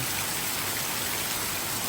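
Steady rain falls continuously, a dense hiss of drops striking surfaces nearby, with no voices.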